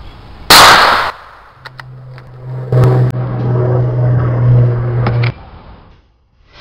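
.22 rifle shots outdoors, one sharp loud crack early followed by a sustained hum, then a second crack and a couple of fainter snaps, with quiet gaps between.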